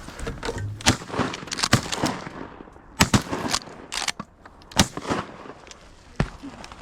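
Shotguns fire repeatedly during a late-season goose hunt on a frozen creek, with sharp loud blasts in quick irregular bursts and several hunters shooting close by.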